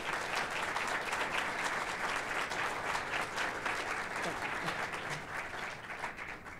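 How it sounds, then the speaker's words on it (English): Audience at the UGA Griffin Fall 2018 graduation celebration applauding graduating students, a sustained even wash of many hands clapping at moderate distance, slowly tapering near the end. "Can we give those students a round of applause?"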